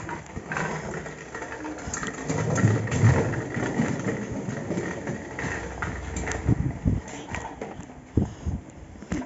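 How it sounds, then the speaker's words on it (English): A motor scooter engine running during a ride, a steady low chugging drone with rough, varying texture and bumps, fairly close and continuous the whole time. "Let's go back riding the scooter."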